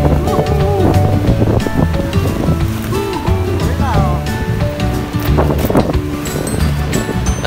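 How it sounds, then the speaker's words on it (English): Niagara Falls in Ontario, Canada, gives a loud, constant roaring rush of falling water mixed with gusty wind buffeting the microphone, while people talk over it. "Niagara Falls and there's two other falls, and I believe that one is the one that's in the side of America"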